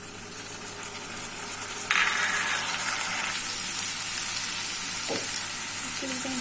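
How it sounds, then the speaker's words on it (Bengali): Steady, loud sizzling of onions frying in a hot pan, with a brief clatter of stirring partway through. "পেঁয়াজটা প্রায় ভাজা ভাজা হয়ে আসছে"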